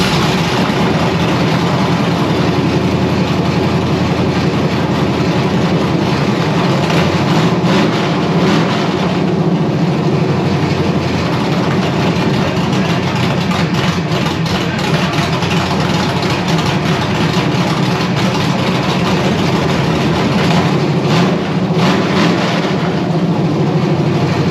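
A C1 Chevelle engine idling just after its first start in 40 years, a loud, steady, low rumbling drone that holds evenly throughout with no talk.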